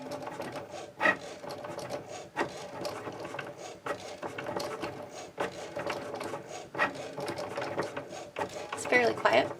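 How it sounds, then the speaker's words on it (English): A Cricut Maker 4 cutting machine runs its setup check, giving a steady mechanical whir with small clicks and ratcheting gear movements, fairly quiet and close, while a person talks intermittently over it. "The machine takes a few seconds to confirm everything is in place."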